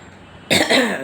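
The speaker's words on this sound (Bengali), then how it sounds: "বলে দিচ্ছি কাশি আসছে" A single sharp cough bursts out of near silence, followed by a short rougher second cough, close and loud.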